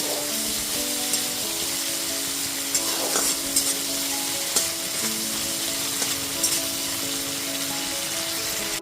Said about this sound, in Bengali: আদা বাটাটা দিয়ে দেওয়ার পর খুব ভালো মতো একটুখানি মিশিয়ে তারপর কষিয়ে নিচ্ছি